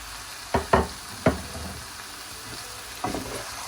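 Potatoes stirred into an eggplant curry in a pan, a few sharp scraping knocks of the spoon against the metal over a faint sizzle, close by with no talking.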